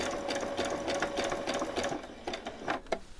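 Sewing machine stitching through layers of t-shirt fabric, a fast close rattling hum of the needle that stutters and slows toward the end.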